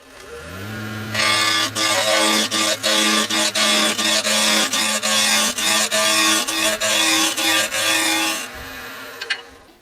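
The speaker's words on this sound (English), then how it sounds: "now it's time to turn that lathe on, and I'm going to use a spindle roughing gouge" A wood lathe spins up and a spindle roughing gouge cuts end-grain wood, producing a loud, close scraping whir with rapid regular ticks as the tool bites, then the motor winds down at the end.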